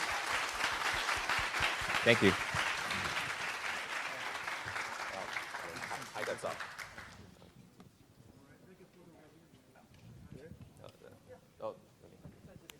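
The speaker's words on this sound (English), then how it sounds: "please give a round of applause to our wonderful speakers today" An audience at a Taiwanese tech summit applauds its speakers, dense clapping for several seconds that dies away, then quieter talk and a spoken thanks follow.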